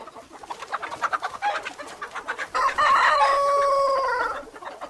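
A rooster leaving the henhouse in the morning crows loudly and close by, a long drawn-out call that follows a stretch of clucking and fowl noises, with no voices.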